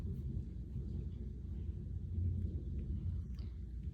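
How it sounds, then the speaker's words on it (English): Distant thunder from a big thunderstorm rolls as a continuous low, soft rumble, swelling slightly midway with no sharp crack. "It's just a big thunderstorm."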